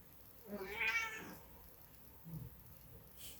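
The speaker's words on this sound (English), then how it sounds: "And my kitty just woke up from her nap." A house cat just woken from a nap gives one drawn-out meow, close and fairly quiet, followed by a softer short chirp in an otherwise quiet room.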